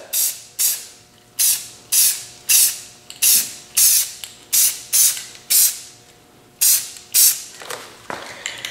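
Short spray-can bursts lay a light coat of paint on the stator cover of a 1983 Yamaha DT80 enduro, about fourteen loud hissing pulses in a steady rhythm, close by, with no talking.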